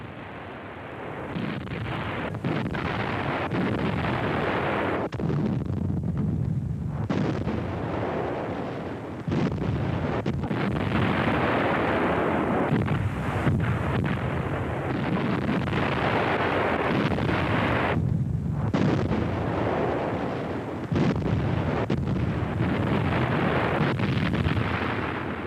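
WWII German Wehrmacht heavy artillery firing in archive footage from the early months of Operation Barbarossa, with dense rumbling blasts and noisy wind-like roar that come and go in a continuous, loud stretch.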